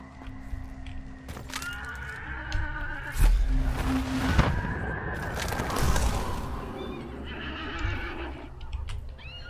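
In Hunt: Showdown a horse neighs and snorts repeatedly, with a loud, shaky whinny around the middle and further nickers and breathy snorts across nearly ten seconds, close and prominent.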